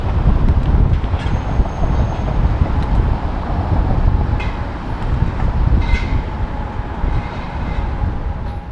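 A streetcar rolls through heavy mixed downtown traffic at a slow pace during the morning commute, giving a steady, loud rumble with faint squeals and car noise around it, and no voices.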